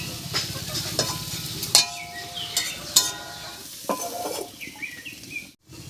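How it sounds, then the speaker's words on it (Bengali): Bottle gourd peel fries in a pan with a soft, close sizzle under repeated scraping and clinking stir strokes, several sharp utensil knocks spaced through, fading toward the end. "ভর্তার জন্য লাউয়ের খোসাটা ভাজা হতে থাক"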